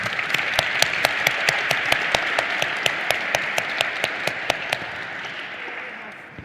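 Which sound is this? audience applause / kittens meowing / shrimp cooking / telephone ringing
audience applause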